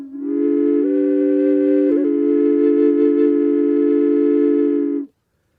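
A 3D-printed triple-drone Native American flute in low D sounds one long, steady breathy tone with layered drones. The pitch steps briefly once or twice, then the note holds for about five seconds and cuts off cleanly.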